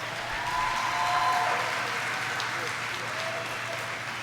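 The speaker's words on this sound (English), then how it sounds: "Give yourselves a round of applause." Graduates at a university graduation ceremony in Jamaica applauding themselves, a steady, moderately loud wash of crowd clapping across a large hall, sustained evenly throughout.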